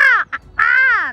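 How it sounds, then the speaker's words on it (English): A crow gives two drawn-out, harmonic caws split by a short clipped note, loud and close with no other sound. "Hello there, Mr. Crow."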